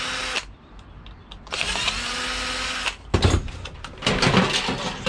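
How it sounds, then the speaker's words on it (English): A power tool whirs in short bursts as screws are backed out to free a motor from scrap, with clicks and clatter of metal parts between runs, close and fairly loud. "Get the motor out, couple of screws."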